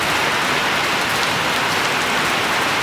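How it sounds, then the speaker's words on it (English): Heavy rain drums on a shop roof, a loud, dense and unbroken hiss filling the space from close overhead, without any voices. "we got into the rain. As you can tell, it's pretty loud in here"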